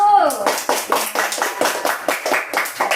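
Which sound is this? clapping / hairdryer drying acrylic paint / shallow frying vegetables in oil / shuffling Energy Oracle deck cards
clapping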